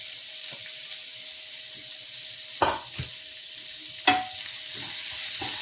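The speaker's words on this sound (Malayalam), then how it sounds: "എന്നിട്ട് ആദ്യം ഇത് നന്നായിട്ടൊന്ന് നമുക്കൊന്ന് വഴറ്റിയെടുക്കാം" Onion, green chilli and bitter gourd sizzle steadily in a hot pan, a continuous bright frying hiss with a couple of sharper stirring scrapes rising above it.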